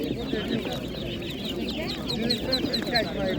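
Young chickens and poultry for sale at a Ukrainian animal market cluck and peep in a dense, continuous chorus close by, with market voices mixed in.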